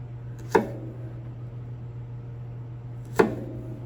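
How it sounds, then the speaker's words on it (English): A kitchen knife cuts through a carrot into half-inch dice with two sharp chops onto a cutting board, a few seconds apart, over a low steady hum. "I'm going to do another 1/2 inch cut."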